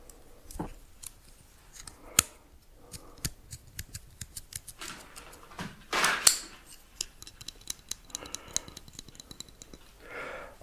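A sharp knife slices and scrapes through parcel packaging in short close strokes, with crisp cuts, rustles and a louder tearing burst midway, quiet and intimate with no talking.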